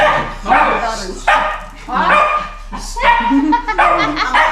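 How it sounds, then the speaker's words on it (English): A big dog barks loudly and close by, about five deep barks in an uneven rhythm with short pauses between them. "Oh wow, that's a big dog."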